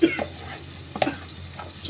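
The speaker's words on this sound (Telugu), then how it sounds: "ఇలా మనం పోపు పెట్టుకుని ఒకసారి బాగా కలిపేసుకుంటే" A sizzling tempering being stirred into tomato and brinjal chutney: soft, close scraping and mixing over a low sizzle, with a couple of light utensil clinks.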